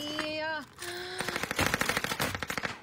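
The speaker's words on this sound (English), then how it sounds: "I think somebody just sniped him" Gunfire in a battle royale video game: a rapid string of sharp automatic shots fills the second half, following a brief rising electronic tone at the start, with a voice faintly present.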